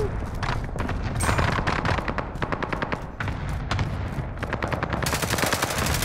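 Heavy gunfire in Call of Duty: Modern Warfare, a continuous loud barrage of rapid shots and booming blasts filling the whole stretch, with no voices heard.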